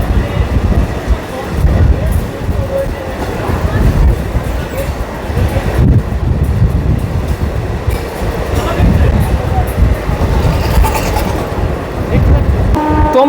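A Krishnanagar–Amghata local train rumbles steadily and loudly at close range for the whole stretch, wheels and carriages droning, while crowd voices murmur underneath.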